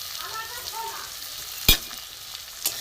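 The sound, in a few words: onion, tomato and crushed garlic frying in a pan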